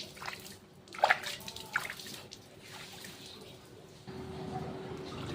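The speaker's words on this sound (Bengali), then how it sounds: "সকালে গোবর জলটা না দিলে ভালো লাগে না, আগে গোবর জলটা ছড়িয়ে দেব।" Cow dung water poured from a container and splashed across the ground outdoors, with sloshing, dripping and splattering that comes in short bursts before a steadier low wash, fairly quiet.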